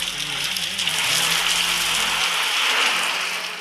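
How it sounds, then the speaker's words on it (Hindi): Steady rain falls on a village, a continuous hiss of drops on surfaces that stays level and close throughout with no voices. "ये देखो बारिश वैसे भी चाहिए थी, और आज बारिश हो गया, अच्छा हो गया।"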